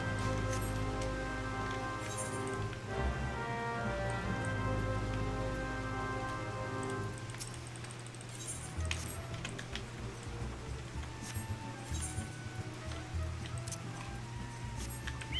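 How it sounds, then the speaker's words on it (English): Rain showers fall at Costa Beach in Final Fantasy XIV, a steady hiss of raindrops heard under a droning tonal music bed that thins out partway through, with scattered louder splashes. "Right now it's raining."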